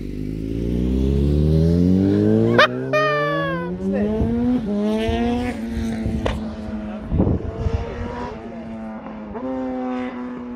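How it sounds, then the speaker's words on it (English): A VW Polo GTI accelerates hard up a mountain pass, its engine note rising steadily through the gears with loud, close revving, sharp shift breaks and some tire noise, while people talk over it inside the car. "Gonna do a run coming up so that we can get the full acceleration."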